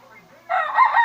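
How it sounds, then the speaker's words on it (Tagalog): A rooster crows once, short and fairly close, its shrill call rising over faint background noise. "May manok pa."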